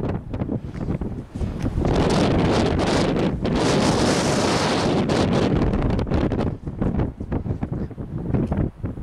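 A strong west wind blows along the sea cliffs beside the Channel, roaring as continuous broadband buffeting that swells loudest midway through, with surf faintly beneath and no voices.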